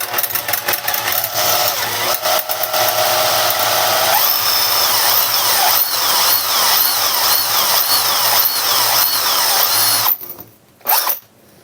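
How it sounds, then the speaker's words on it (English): A power drill bores steadily with a drill bit into a crusty ZX Spectrum, a loud close whine shifting in pitch under load before stopping abruptly with brief trailing sounds. "I just don't want to just jump straight in with a big drill bit."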